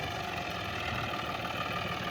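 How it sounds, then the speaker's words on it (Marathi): A John Deere tractor engine idles with a steady, even mechanical drone and vibration, running constantly at close range with no voices. "ट्रॅक्टर थांबला."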